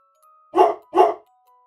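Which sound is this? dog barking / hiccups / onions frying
dog barking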